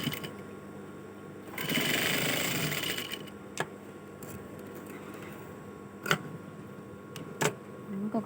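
A sewing machine stitching runs in a loud whirring burst, then drops to a quieter hum broken by a few sharp ticks and clicks.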